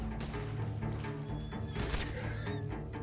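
Horse neighing in the Red Dead Online video game, a short whinny amid busy game sounds with steady background noise and hoof clatter, moderately loud.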